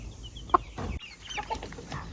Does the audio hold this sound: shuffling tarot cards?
no